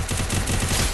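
Dense, continuous automatic gunfire from the Free Fire battle royale shooter, a rapid rattling burst that stays loud and steady for the whole second with no talk over it.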